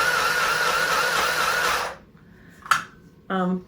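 A tiny mini sewing machine stitching with very thick thread, a loud steady whirring buzz for about two seconds that stops abruptly, then a short click and a brief burst of running again.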